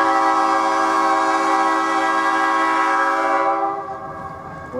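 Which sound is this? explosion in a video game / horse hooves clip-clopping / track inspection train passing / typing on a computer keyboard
track inspection train passing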